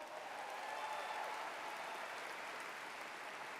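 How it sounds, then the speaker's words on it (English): Crowd applause at a Texas Republican state party convention, a steady distant wash of many hands clapping that holds evenly throughout at moderate volume. "Give them a huge applause."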